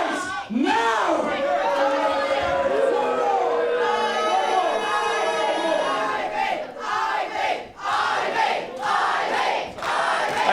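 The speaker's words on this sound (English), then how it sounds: "there's a sound I never thought I'd hear. This crowd respecting Ivy" A crowd at an independent wrestling match roars, chants and cheers in loud, rising waves. Excited shouting and chatter rise and fall through the noise, with a few short dips between surges.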